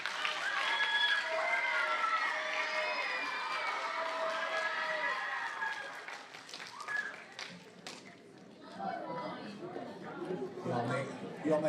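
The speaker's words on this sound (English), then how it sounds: "Let's give them a round of applause" Applause with chatter from a school audience at a 7th grade awards ceremony honouring outstanding musicians, a dense burst of clapping that thins into scattered claps and murmuring voices.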